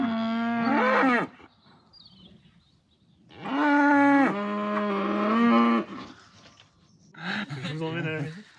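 Hereford cattle moo in long, loud, harmonic calls, three separate lows with pauses between them, close by.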